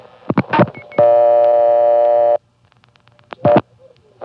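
A 1970s payphone placing a seven-digit local call across a state line, with a few short clicks and bursts, then a steady held tone for over a second, silence, and another brief burst near the end.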